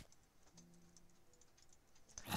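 Soft, quick keystrokes on a computer keyboard, a faint run of light clicks ending in a louder clatter.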